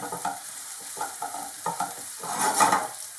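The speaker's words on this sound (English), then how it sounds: "We should fry the onions for about 6 minutes, low." Onions and ginger frying low in a pan for a sprout bhaji, a soft sizzle with repeated stirring scrapes and clatters, close and fairly quiet, swelling briefly near the end.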